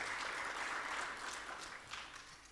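Applause from a conference audience at a national cancer summit, a dense, even patter of many hands clapping, moderately loud, fading slightly toward the end.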